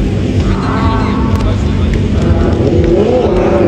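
A drift car at a D1GP event in Japan roars loudly and steadily under its engine, a continuous dense motor drone with crowd and commentary voices talking over it throughout.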